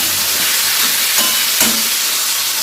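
Mutton and potato pieces sauté in a pan in a steady, even hiss of frying, with two brief soft knocks partway through and no voices.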